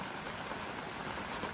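Heavy rain pours down outdoors as a dense, uniform hiss that holds steady and close throughout the short stretch, with no other sounds standing out.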